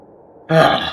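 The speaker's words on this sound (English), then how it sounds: "And then he burps." A single loud, abrupt burp erupts halfway through after near silence and holds for about half a second, close and alone.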